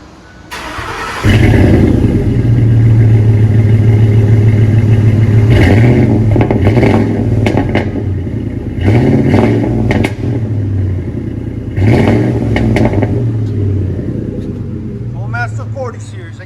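A 2006 Ford F-150 Harley-Davidson Edition with a Flowmaster 40 Series dual exhaust starts and settles into a loud, steady rumble, blipped up in several sharp revs, with brief talk in the background.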